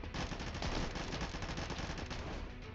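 Rapid automatic gunfire in the first-person shooter Combat Master, a dense continuous burst of overlapping shots filling the whole stretch at steady loudness with no talk.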